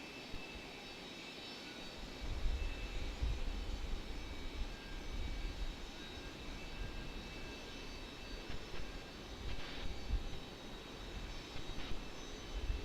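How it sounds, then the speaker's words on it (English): An Embraer Phenom 300 NetJets private jet on final approach at Raleigh Durham airport, a steady distant jet engine roar that rises and falls slightly throughout, with no talking. "Private jet on the final."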